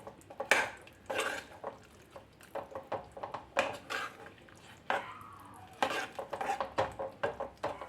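Ground masala paste being stirred into cooked cowpeas (vanpayar) in a pot for a curry: repeated clinks and scrapes of a spoon against the vessel, with wet squelching, in irregular bursts, close and fairly loud.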